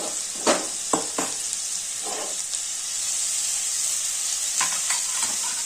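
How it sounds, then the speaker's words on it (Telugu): Broad beans fry in oil in a pan on the stove with a steady bright sizzle, broken by several scraping stirs that come close and loud. "ఇవి తడి ఆరిపోయే వరకు నూనెలో వేయించుకుందాము"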